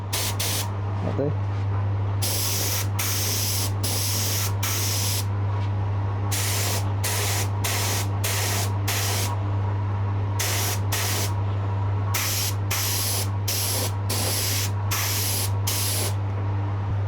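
Spray gun misting yellow paint onto a handmade guitar body during a cherry sunburst finish, a loud steady hiss in repeated bursts of a second or so, with a constant low hum underneath and one brief spoken word.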